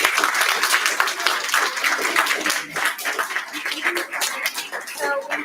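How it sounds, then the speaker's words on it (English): Classmates and guests applaud students after a middle school classroom poetry recital, the clapping lively and close, with voices chattering in the room and the applause tapering near the end. "I just want to give one last round of applause to our students."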